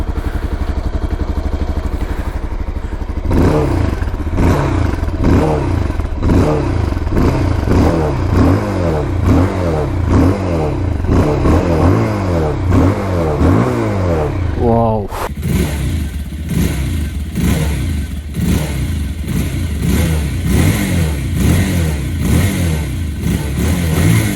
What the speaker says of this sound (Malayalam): ഞാൻ ഇതിൻ്റെ എക്സോസ്റ്ററോടൊന്ന് കേൾപ്പിച്ചു തരാം കേട്ടോ.